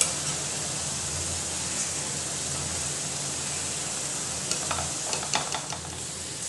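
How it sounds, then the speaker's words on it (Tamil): Spinach pakoda deep-fry in hot oil, a constant soft sizzling hiss at moderate distance, with a few sharp crackles and pops near the end. "இப்போ மீதம் உள்ளதையும் அதே மாதிரி பொரிச்சு எடுத்துக்கலாங்க."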